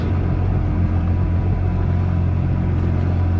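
Steady, close engine drone and rumble from a Kawasaki Ultra 310LX jet ski running in launch mode, a continuous low-pitched roar with no pauses and no talk.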